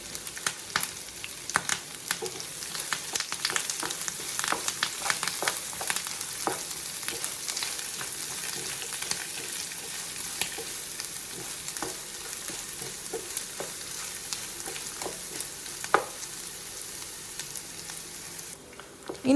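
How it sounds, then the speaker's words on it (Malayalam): Ingredients for Kerala-style milk upma sauté in a pan with a steady, close oil sizzle, broken by frequent scraping stir strokes, and no talking. "നമുക്കിതിനെ ഒന്ന് വഴറ്റിയെടുക്കാം. ഒരുപാടങ്ങ് ബ്രൗൺ നിറമാവേണ്ട."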